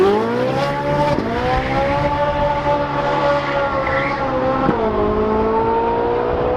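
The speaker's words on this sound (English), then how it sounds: "Do you think this is the best sounding V8 Ferrari?" A Ferrari 458 V8 with straight-pipe exhaust accelerates hard, its loud rising engine note climbing through gears with two distinct shift breaks, close and unbroken.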